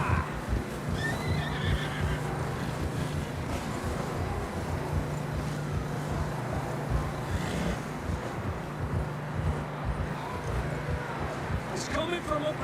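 Horses neigh and whinny in the video game Red Dead Redemption 2, with one call early and another near the end, over wind and hoof ambience while people talk.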